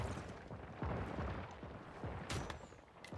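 Gunfire in the open-world survival video game Once Human, a series of sharp low booming shots in irregular succession, some quick pairs, fairly close and steady in level, with no talk over it.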